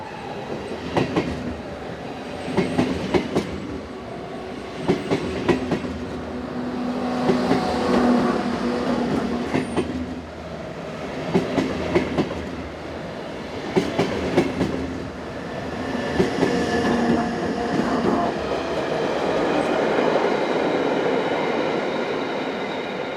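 A Swiss class 450 commuter train passes near Rupperswil heading west from Zurich, a steady rolling rumble with repeated rhythmic wheel clacks over rail joints, close and loud for the whole stretch, swelling slightly toward the end with no voices.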